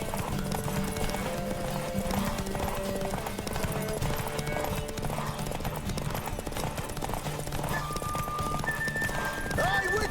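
A horse gallops in the Witcher 3 video game with rapid, continuous hoof clip-clops, close and steady throughout, beneath ambient game sound, a whinny and a voice talking.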